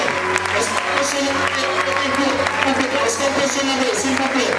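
An audience applauds a children's choir at a youth choir festival in Libreville. The clapping is steady and dense and continues throughout, mixed with crowd murmur and voices.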